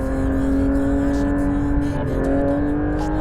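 A Porsche GT3 RS engine at full throttle on a racing circuit, a loud, steady, high-pitched sustained roar with a rising tone that holds for the whole few seconds, close and unbroken.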